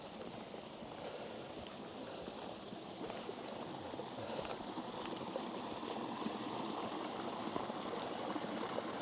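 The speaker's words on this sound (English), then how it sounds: "I can hear water." A stream runs through the grounds of Cragside House, a soft continuous rushing and trickling wash heard at a distance, steady and faint with no voices.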